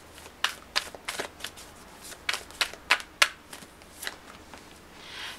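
Tarot cards are shuffled by hand in a series of crisp riffling bursts, a dozen or so quick papery snaps spaced unevenly over a few seconds, close and clear with no talking.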